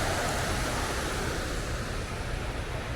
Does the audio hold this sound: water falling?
yes